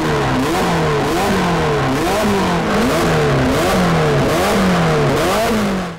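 Ferrari Portofino 2018 twin-turbo V8 of about 600 hp revving repeatedly, close and loud, with rising and falling engine pitch in steady surges and no talking.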